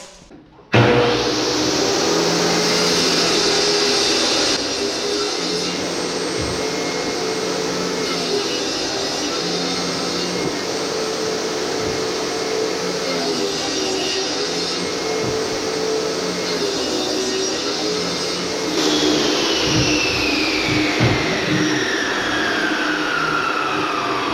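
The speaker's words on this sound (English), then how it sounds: "Now back through the table saw." A table saw runs with a steady, loud broadband whine while cutting wood for cabinet doors, holding an even roar for over twenty seconds and then shifting in pitch near the end.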